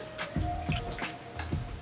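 Water dripping and splashing as hands are rinsed away from a sink, several soft irregular drips and splats at close range with no talking.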